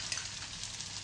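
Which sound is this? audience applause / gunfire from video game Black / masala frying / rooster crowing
masala frying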